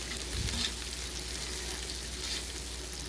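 Curry leaves and dried red chillies frying in a pan, a steady close crackling sizzle throughout with a brief low thump of stirring near the start; no voices.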